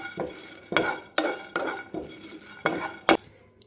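Watermelon seeds and two cardamom pods being fried in a pan, heard as a series of sharp metallic clinks and scrapes of a utensil against the pan, about six distinct strokes, close and fairly quiet, with no talking.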